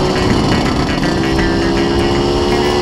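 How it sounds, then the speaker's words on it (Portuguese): A motorcycle engine idles steadily up close, a continuous loud rumble with a slight uneven pulse and no voices. "Uma coisa que eu também gostaria de compartilhar com a galera é o acerto da média dessa moto."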